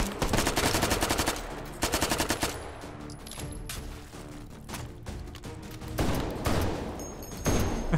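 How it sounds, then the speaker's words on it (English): Sustained automatic SMG fire in the VR shooter H3VR, loud rapid bursts with short pauses between, overlaid with game music and mechanical clatter. "SMGs are supposed to be good, Skitty."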